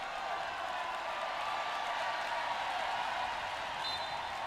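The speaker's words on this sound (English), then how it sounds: "The crowd's doing a wave. That's what they're yelling about." An arena crowd at a Paralympic wheelchair basketball game in Rio yells while doing a wave, heard as a steady, distant, faint roar of many voices with no clear individual words.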